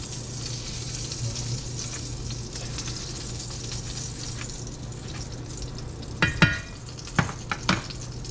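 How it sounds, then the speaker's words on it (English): Leftover chicken-fried-steak breading browning in grease in a pan over medium-high heat gives a steady close sizzle, with a few sharp scrapes and knocks near the end. "All this stuff left over, I'll put it back in the pan and get some good flavor"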